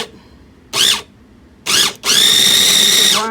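A small electric food chopper pulses in three bursts of high whirring motor noise, two short ones then a longer steady run, loud and close with quiet pauses between.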